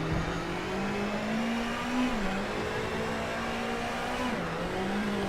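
A Ford Fiesta WRC rally car engine in WRC 8 on a gravel stage, droning steadily at high revs with two brief dips as throttle lifts and gears shift, heard close and continuous.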